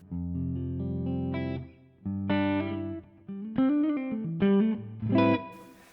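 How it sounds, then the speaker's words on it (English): Distorted electric guitar through an amp modeler with a studio reverb effect plays sustained chords and notes in short phrases, each ringing out with a touch of reverb. "Let's just add in a bit of reverb just for some spice"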